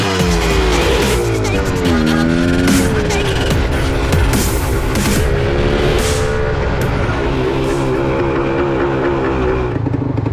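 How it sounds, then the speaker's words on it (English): Vintage Yamaha DT250 motorcycle being ridden, its engine droning loud and close with rising and falling revs throughout, no voices over it. "Bike pulls really good."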